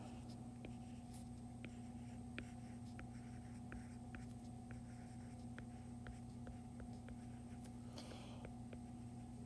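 A pen writes by hand on paper, making soft, close scratching strokes in short repeated bursts over a steady low room hum.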